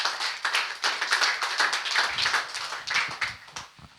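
A church congregation claps in rhythm, many hands striking together in a steady, lively beat that fills the room without any talking.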